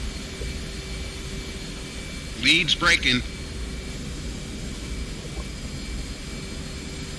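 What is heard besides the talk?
jet engine starting in DCS flight simulator video game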